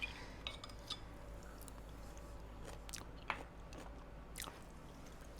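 Close, quiet chewing and crunching of seasoned sheet pan pork tenderloin with buttery potatoes and Brussels sprouts tasted from a spoon, with soft bites and mouth sounds plus a faint clink of cutlery.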